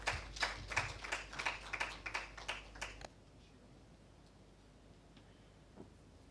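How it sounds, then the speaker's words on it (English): A few light, scattered hand claps come from an audience after a speech at a national dialogue on child trafficking in Uganda, lasting about three seconds before the room falls quiet. "you can afford to give him a heavier hand clap than that"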